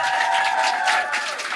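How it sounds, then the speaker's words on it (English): Live audience at a podcast show in Munich applauding steadily, a dense wash of clapping with some crowd noise throughout, fairly loud and continuous. "give yourselves a round of applause for making it out to the show"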